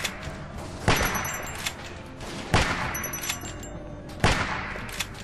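Gunshots in The Walking Dead video game, three loud, sharp blasts spaced a couple of seconds apart, each with a short decaying tail over low background ambience.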